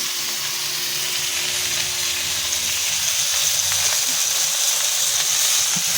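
Pumpkin leaves and garlic fry uncovered in a pan, giving a steady, close, broadband sizzle that stays even throughout with a faint low hum underneath.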